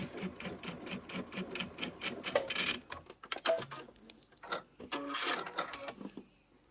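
A sewing machine stitches slowly across a pinned seam on a quilted bench pillow, its needle tapping in a steady close rhythm with short pauses and a few brief clicks as it passes over the pins.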